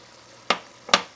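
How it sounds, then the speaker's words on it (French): Celeriac cubes dropped into a frying pan of meat, two short bursts of sizzle about half a second apart over a quiet background. "je vais ajouter mes cubes de céleri rave"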